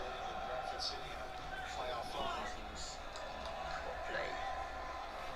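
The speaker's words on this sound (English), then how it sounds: "Yeah, we can hear the crowd noise, that's good." Crowd at a football semi-final between SFC and PER, heard faintly and far off as a steady murmur with occasional raised shouts, while people talk nearby.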